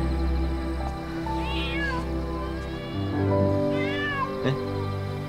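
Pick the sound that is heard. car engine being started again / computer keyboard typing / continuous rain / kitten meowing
kitten meowing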